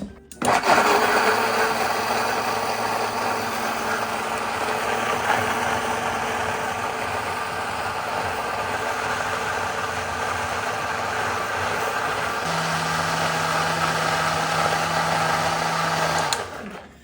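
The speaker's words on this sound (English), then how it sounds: "Blend that together, garlic powder and smoked paprika, 2 tablespoons each. Blend it." Kitchen blender whirring through a jalapeno whiskey BBQ sauce with garlic powder and smoked paprika, a loud steady motor roar held for about sixteen seconds with a slight pitch shift near the end, no speech.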